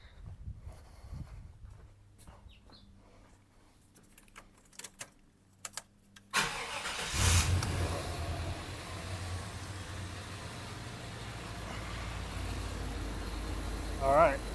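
Car engine cranking and catching at about six seconds, then settling into a steady idle after quiet clicking and rattling beforehand, during a check of a suspected faulty alternator and battery charging system.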